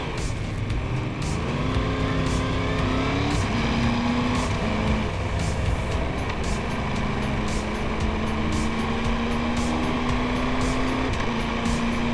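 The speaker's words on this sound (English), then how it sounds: "I love the sound of this bike." A motorcycle engine drones steadily and loudly throughout on a ride to Great Yarmouth, its pitch slowly climbing as it revs, with wind noise around it.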